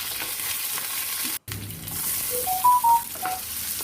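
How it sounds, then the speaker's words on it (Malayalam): Mustard seeds, cumin, ginger, garlic and curry leaves fry in coconut oil in a pan, giving a steady close sizzle with a few brief crackles and pops. "ഒരു പാനിലേക്ക് ആവശ്യത്തിന് വെളിച്ചെണ്ണയും കടുകും കുറച്ച് ജീരകവും ഇട്ട് പൊട്ടിക്കാം"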